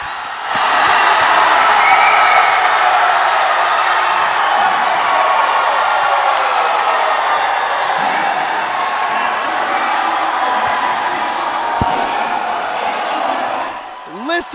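Gym crowd at a college volleyball match between Menlo College and Westmont College roaring and cheering loudly and continuously after match point, a sustained wall of voices.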